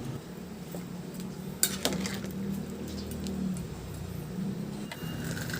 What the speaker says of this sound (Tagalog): Ilagay ko na rin yung labanos na 1 piraso na hiniwa ko lang na maliliit na pa-cubes.